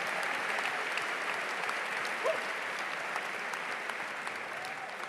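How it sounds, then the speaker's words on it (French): Audience applause at a talk, steady dense clapping from a crowd throughout, fairly even in level and at moderate distance, with no voices standing out. "S'il vous plaît, applaudissez pour moi, s'il vous plaît."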